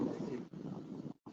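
Wind rushes across the microphone at a lakeside carp fishing spot in autumn, a steady moderate roar that cuts out briefly near the end before returning.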